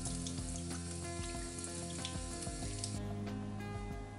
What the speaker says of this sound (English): then lastly I wash and dry the eggs before we can continue